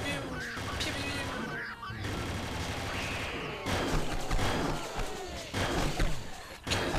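Rapid bursts of gunfire and explosive blasts from the Doom video game fill the passage, loud and dense with overlapping shots, sharp impacts and brief gaps between volleys.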